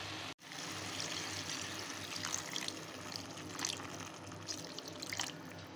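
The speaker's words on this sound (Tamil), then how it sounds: "அதனால் கொஞ்சமாக தாங்க தண்ணியை ஊற்றி கொதிக்க வைக்க போகிறேன்" Water streams steadily into a pot of chicken gravy on a home stove. The pour is a soft, continuous trickle and splash that stops briefly near the start and then resumes.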